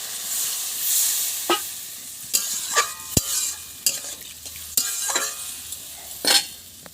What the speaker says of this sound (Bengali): মশলা কষানো হয়ে গেছে আমি জল দিয়ে দেবো